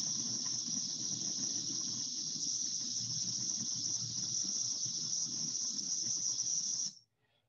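A chorus of Cassini periodical cicadas makes a loud, continuous, high-pitched buzzing drone that holds steady for about seven seconds and then cuts off abruptly.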